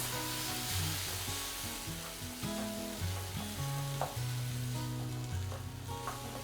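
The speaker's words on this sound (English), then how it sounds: "So add them to the cooking onion." Chopped tomatoes and onions fry together in a pan, a steady close sizzle broken by soft scraping and stirring clatter, with no talking.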